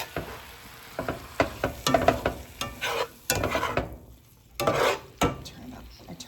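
Brussels sprouts and spicy sambal oelek hitting a hot skillet, giving bursts of frying sizzle broken by stirring clatter and scrapes from a utensil against the pan, close by with no talking.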